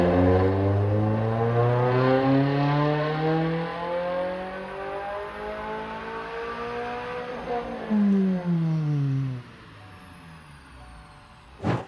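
Subaru BRZ/GR86 with a Harrop supercharger kit on a dyno, engine climbing steadily in a loud, long pull, then dropping back with a brief second rev and fading to idle.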